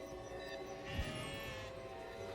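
A sheep in the video game Trine 3 gives a single clear bleat over a soft layered musical background.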